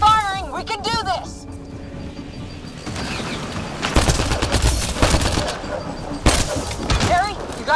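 Rapid gunfire crackles in a firefight in the sci-fi video game Mass Effect: Andromeda, with dense bursts and heavy volleys that swell midway. Voices shout over the shooting.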